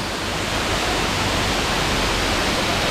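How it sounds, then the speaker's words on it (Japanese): A waterfall near Puerto Galera in the Philippines, a loud, steady broadband roar of falling water with no break and no voices. "綺麗な滝です。"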